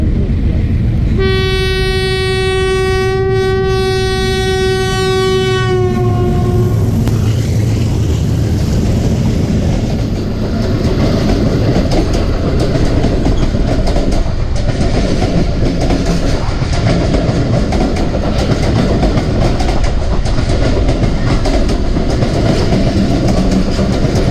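A Pakistan Railways passenger train, the 48 Down from Peshawar hauled by an HBU-20 diesel locomotive, sounds a long, loud steady horn blast near the listener, then rumbles and clatters past continuously with wheel noise.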